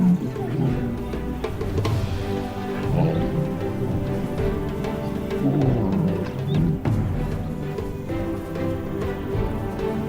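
Lions of a pride in the Namib desert, reunited, give deep, rumbling roars and grunts that overlap in a dense, steady low chorus across the whole stretch.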